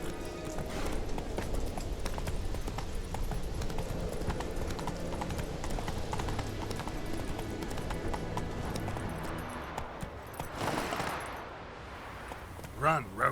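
A horse gallops in The Witcher video game, steady rapid hoofbeats drumming continuously for several seconds up close, with some game ambience mixed in and a brief swell of other sound near the end.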